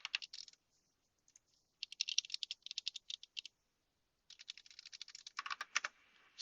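Fingers type an email address on a computer keyboard, crisp close key clicks arriving in quick bursts separated by brief pauses, faint and quiet in an otherwise silent room.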